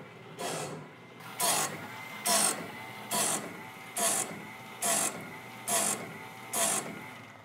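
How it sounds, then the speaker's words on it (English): A blade-sharpening grinder in a sawmill shop bites in evenly spaced bursts, about eight sharp grinding pulses in a steady rhythm over a quieter mechanical hum, with no one talking. "I can tell a difference in the noise of the grinder"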